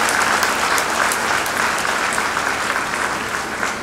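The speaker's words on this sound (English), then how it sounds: "You all deserve a big round of applause" An audience at the 31st convocation of Shastra University claps steadily, producing a loud, continuous wash of applause throughout, with no lull or break.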